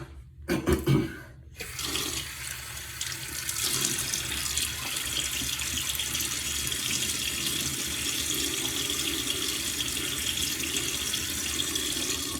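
A bathroom tap runs steadily into a sink to wet the face before a wet shave, after a few brief clunks and splashes at the start, a continuous close rushing of water with no talk.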